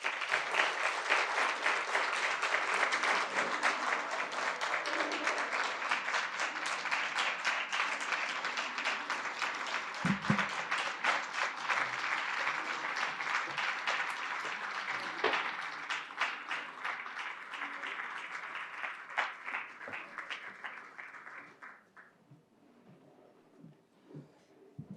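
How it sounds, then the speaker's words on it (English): Sustained applause from an audience at a journalism awards ceremony, dense steady clapping lasting over twenty seconds before gradually thinning and fading near the end. "Another round of applause, ladies and gentlemen, for Justice Zukisa Chikwe."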